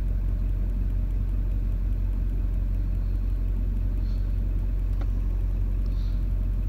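Rough idle of an LB7 Duramax diesel in a truck, a steady low rumble with a slightly uneven, shaky beat running continuously and fairly close, with no talk over it.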